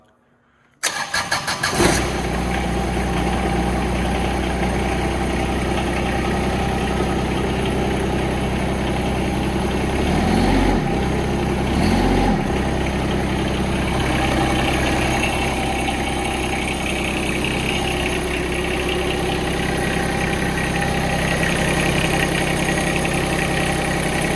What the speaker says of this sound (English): Go ahead and crank it over and see if we can get it to start on the first time.